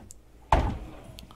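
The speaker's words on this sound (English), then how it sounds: "Now there is a door that slides across here" A sliding bathroom door in a 12 m STX motorhome gives one sharp, close thunk as it runs across and shuts, with a short rumbling tail and faint room noise before and after.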